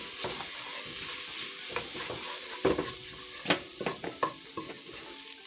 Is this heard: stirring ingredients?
yes